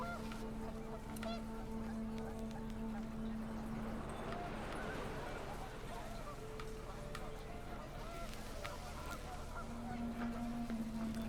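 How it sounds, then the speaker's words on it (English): Panicked geese honk in gusty wind in the video game What Remains of Edith Finch, a flurry of faint, scattered calls over a steady windy background. "The wind picked up, and panicked geese appeared and quickly went."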